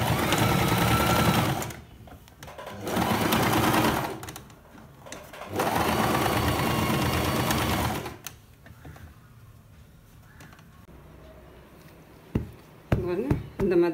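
An electric sewing machine stitches a pillow in loud, sustained bursts, running for a couple of seconds at a time with brief pauses between, then stopping, followed by a few sharp knocks and clicks.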